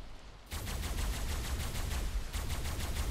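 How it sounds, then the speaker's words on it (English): Sustained rapid automatic fire from tek rifles in the ARK video game, a loud, dense burst starting abruptly and continuing without pause for about two and a half seconds. "I even brought the double tech rifles, because I knew this would take a lot of shooting stuff down"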